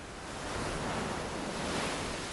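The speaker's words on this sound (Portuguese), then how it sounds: "Um paraíso delimitado pelo quebrar das ondas." Ocean waves break on a Hawaiian shore on the Pacific, a loud, steady wash of surf that swells and holds over a couple of seconds, with no voices.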